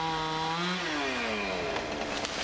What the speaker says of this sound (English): eucalyptus trees, which have stood for decades, meet their end to the blades of a chainsaw